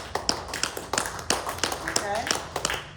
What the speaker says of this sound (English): The basic clap.